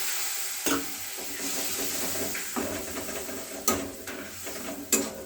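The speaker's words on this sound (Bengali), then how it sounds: "এই সব মশলাটিকে সামান্য উষ্ণ গরম জল দিয়ে কষে নিতে হবে।" Spice masala cooks with warm water in a pan, a steady loud sizzle and steam hiss broken by sharp scraping stir strokes that recur every second or so.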